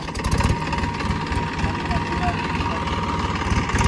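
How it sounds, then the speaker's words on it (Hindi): Massey Ferguson 245 DI tractor engine, a 50 hp model, idling in a wet field, a steady low rumbling throb with a person talking over it. "तो ट्रैक्टर को स्टार्ट करिए।"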